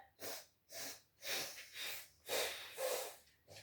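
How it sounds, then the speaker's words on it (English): Soft, rhythmic nasal breaths during a family yoga session: about six short airy bursts out through the nose, evenly spaced and fairly close, with no talking. "Breathe out through your nose."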